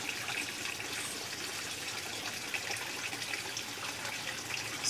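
Water pours steadily into a bottle in a homemade submarine model, with a continuous trickling, gushing flow close by that holds an even level from start to finish.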